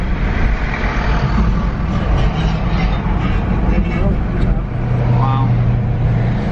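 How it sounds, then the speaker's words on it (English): Fire trucks roll past at a road accident scene in Connecticut, a steady loud rumble of heavy engines and traffic close by, with a low droning tone rising toward the end, while people talk faintly in the background. "Here goes our fire trucks."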